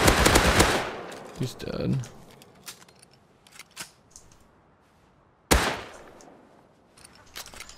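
Thompson submachine gun fire in a video game: a loud burst at the start, then scattered softer shots, and another sharp loud shot later, with a person talking briefly.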